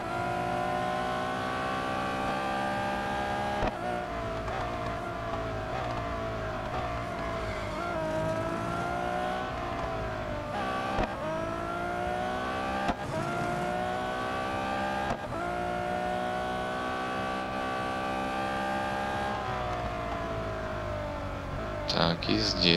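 Ferrari 812 Superfast racing in a video game, its engine screaming loudly through repeated gear shifts, rising and dropping in pitch with each shift over a long continuous run, with occasional tire squeal.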